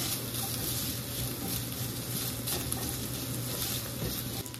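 Pork belly browning in cooking oil in a pan, a steady, dense, close sizzle that hisses continuously without pause at an even loudness.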